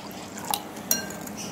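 Water is poured into a pani puri spice mix of chaat masala, salt and sugar for gol gappa water. It makes a brief, soft, hissy splash with a couple of small drips.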